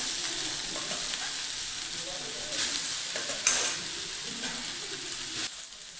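Boiled potatoes stirred into onions fried in mustard oil with dried and green chilli, giving a steady close sizzle broken by soft scraping stir strokes, with no talking.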